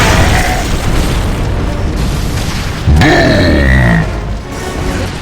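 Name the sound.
frag grenade explosions in Gears of War: Judgment video game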